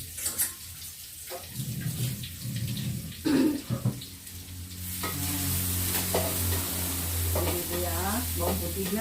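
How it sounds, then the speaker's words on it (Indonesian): Garlic sautéing in a frying pan, with scraping stirring strokes at first, then a steady, close sizzle of frying that fills the second half; no talking. "Bawang putihnya kita tumis, kita goreng dulu"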